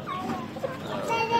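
Aseel chickens cluck softly in a short, close burst of morning farmyard sound, with faint background noise and no other voices.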